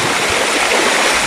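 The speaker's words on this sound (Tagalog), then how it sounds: "Agos na ang tubig papunta doon" Floodwater rushes loudly through a broken wall toward a neighbouring fence, a constant dense roar of flowing water heard close up with no voices.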